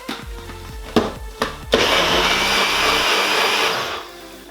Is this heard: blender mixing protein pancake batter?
yes